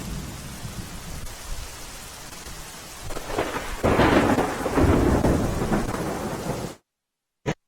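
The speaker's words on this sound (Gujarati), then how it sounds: "વલસાડ જિલ્લામાં સતત 2 દિવસથી અનરાધાર વરસાદ વરસી રહ્યો છે" Heavy, continuous monsoon rain in Valsad district, a dense steady downpour with rumbling thunder swelling in the middle, loud and unbroken until it cuts off abruptly near the end.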